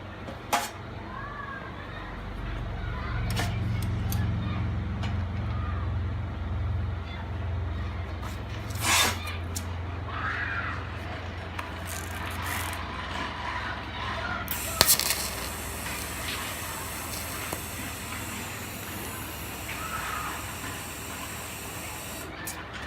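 Tack welding a shifter extension onto two nuts that were already welded together, for a 2015+ Dodge Challenger Scat Pack shifter. Faint, intermittent hissing and crackling runs throughout, with a brief louder burst partway through.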